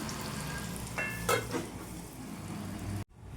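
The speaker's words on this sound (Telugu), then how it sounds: "ఈ విధంగా 2 వైపులా మార్చుకుంటూ తిప్పేసుకొని వేయించుకోవాలండి" Stuffed bitter gourd masala fries in a pan with a steady, close sizzle, briefly interrupted by a few clinks and scrapes of a spatula turning the pieces before the sound cuts off abruptly.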